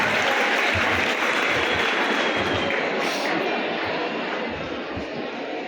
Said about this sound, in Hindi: एक बार आपकी जोरदार तालियां बजनी चाहिए